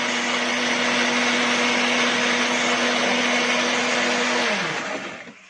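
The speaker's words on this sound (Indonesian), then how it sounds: "Selanjutnya digiling, dihaluskan sampai halus selama kurang lebih 1 menit." An electric grinder blends spices and meat into a smooth paste, a loud steady whirring motor hum that holds constant and then winds down at the end.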